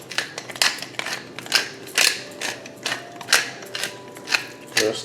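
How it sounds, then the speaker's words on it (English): A pepper mill cracks black pepper over stone-ground grits, giving repeated close, gritty ratcheting crunches in uneven bursts against a faint background. "Maybe put a little bit of cracked black pepper in here."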